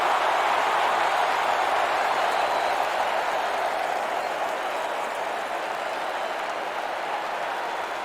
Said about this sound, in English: Man, this crowd is at a fever pitch